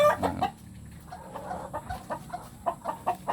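Basilan native chickens on a farm cluck in short, repeated bursts, several birds close by with soft clucks scattered between louder calls and no talking.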